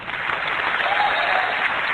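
An audience at Apple Macworld New York 1999 claps steadily throughout, a dense, even wash of applause at full volume with no pauses or voices standing out.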